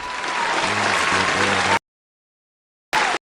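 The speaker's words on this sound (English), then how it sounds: "Give him a round of applause." A crowd in a radio studio claps and cheers loudly for a couple of seconds, breaks off into silence, then a brief burst of applause returns.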